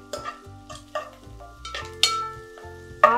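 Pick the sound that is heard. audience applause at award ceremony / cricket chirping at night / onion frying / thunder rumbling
onion frying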